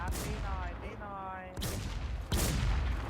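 Gunfire in a PvP shooter game, with several sharp, loud bursts of shots in quick succession, separated by brief ringing tails, mixed with game noise.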